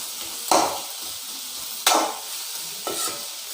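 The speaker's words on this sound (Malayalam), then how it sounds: "ഉപ്പ് ചേർത്ത് നന്നായി വഴറ്റിയെടുക്കുക കേട്ടോ." Onions sautéing with salt in a pan for an egg roast, giving a steady soft sizzle broken by three scraping stirs of a spoon against the pan, close up with no voices.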